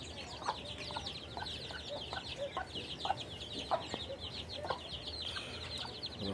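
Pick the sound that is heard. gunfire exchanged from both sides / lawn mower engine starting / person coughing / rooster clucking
rooster clucking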